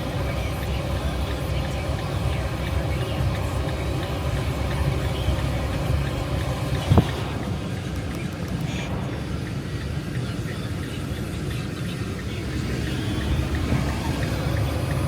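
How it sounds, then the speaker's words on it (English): A vehicle's engine pulls steadily in first gear while accelerating from a crawl, a loud continuous low drone close by with one brief click partway through. "I just put it back in drive. I'm gonna crawl my way back up to speed."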